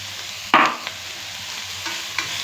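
Grated carrot (250 g) stirred into onion frying in oil gives a soft, continuous sizzle, broken by a sharp spatula scrape and a few lighter knocks against the pan.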